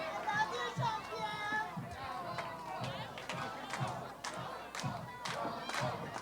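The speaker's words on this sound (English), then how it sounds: "The crowd here in the FGW arena appreciating the efforts of the mastermind." Wrestling crowd in the FGW arena cheering and shouting in a steady, dense roar, with scattered claps and thuds from the ring breaking through the noise.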